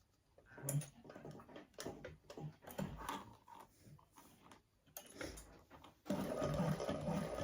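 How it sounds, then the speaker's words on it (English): A sewing machine stitches webbing for a crossbody strap in short, quiet bursts of rapid mechanical whirring separated by brief pauses, closing with a louder sustained run, with no talking. "Just don't sew past it because you want to catch it in all the seams."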